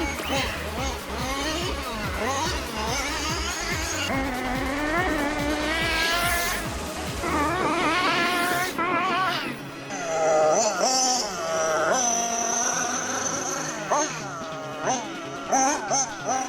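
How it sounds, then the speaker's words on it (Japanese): A small nitro engine in a Kyosho FO-XX radio-controlled GT car screams and buzzes at high revs on its first run, pitch rising and falling as it accelerates and shifts, with a voice talking over it. "このエンジン音いいな。"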